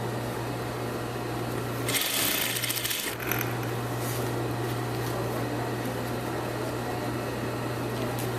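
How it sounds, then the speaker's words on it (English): A sewing machine stitches a facing onto the bottom of a sleeveless garment, with a back stitch: a steady, close mechanical whir and hum running throughout, briefly interrupted by a louder rattling burst in the middle, with no talking. "Sew these to the bottom and back stitch."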